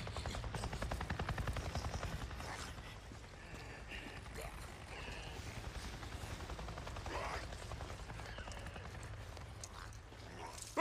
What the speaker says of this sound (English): I just saw a goddamn chopper! A chopper? What are you talking about? A Nero chopper! It just buzzed right over me.